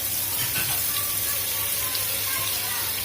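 Butter melts over cloves and a green cardamom pod in a hot pan, giving a loud, dense, continuous sizzle close by with no pauses, like hissing oil throughout.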